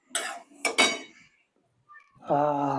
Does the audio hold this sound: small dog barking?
no